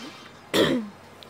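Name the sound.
cough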